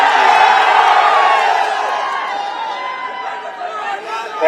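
Large crowd at an open-air political rally in Kaushambi, a dense steady roar of many voices with cheering and whoops, loud and continuous, swelling slightly at the very end.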